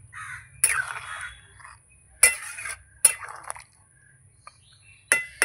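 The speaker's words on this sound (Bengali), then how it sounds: "একটু নাড়িয়ে দেবো।" A spoon stirs meat curry with ground garam masala in a metal pot, giving several short scraping clinks in bursts with quiet gaps between them, close by.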